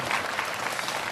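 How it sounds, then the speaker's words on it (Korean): An audience at a lecture on French culture and life applauds to welcome a speaker, a brief burst of steady clapping from many hands heard at a moderate distance. "큰 박수로 환영을 해 주시면 고맙겠습니다"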